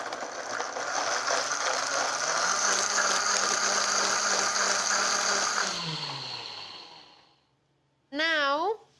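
A blender purees chili sauce with garlic, chili cooking liquid, coriander and cumin seeds, a loud whirring motor that shifts pitch and winds down, followed by a short sharp tapping.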